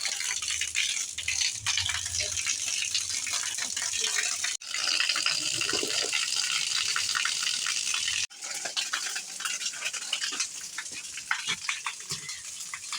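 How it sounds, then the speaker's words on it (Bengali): An electric motor pump draws cold water from underground to fill a container, producing a continuous loud rushing gush with rattling and brief interruptions, heard up close. "যাই মোটরটা চালু করে ঠান্ডা জল ভর্তি করে নিয়ে আসি।"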